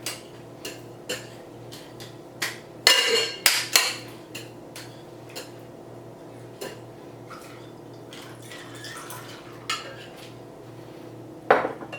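Ice clatters in a cocktail shaker tin as cubes are added for a peanut butter whiskey and tequila drink, sharp scattered clinks and rattles with a dense burst near the start and a few later taps over a low steady hum.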